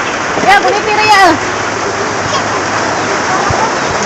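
Heavy rain pours down in a steady broadband hiss while children bathe in it outdoors, with their excited voices and shouts rising over the downpour near the start.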